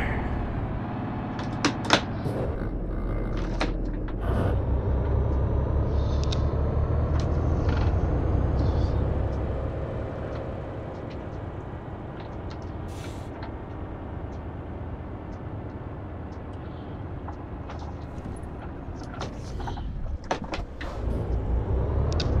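Truck driving in the Euro Truck Simulator 2 video game: a steady low engine drone runs throughout, with scattered clicks and knocks. It swells slightly in the first half and eases later, with no talk.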